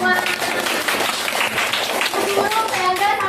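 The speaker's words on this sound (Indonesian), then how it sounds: "Sekarang tepuk tangan untuk kita semua." A primary classroom of children claps together during a microteaching maths lesson, a short burst of fairly close, brisk hand claps with children's voices mixed in.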